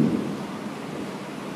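Thunder from a storm rolls as a low, broad rumble that stays steady and fairly soft throughout, with no voices.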